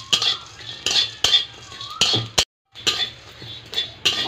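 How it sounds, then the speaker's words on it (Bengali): Whole spices such as black cardamom, star anise, cumin and black pepper are dry-roasted in a pan, heard as repeated close metallic scrapes and clinks of a spatula in a rhythmic series with a brief silent gap. "দিয়ে মশলাগুলো আমি ভালো করে ভেজে নেব।"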